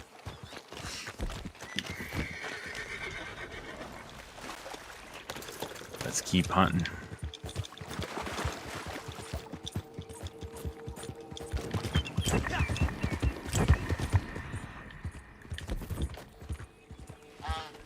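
Horse hooves clip-clop steadily with a whinny partway through, from a horse in the video game Red Dead Online, heard close under someone talking and other game sounds.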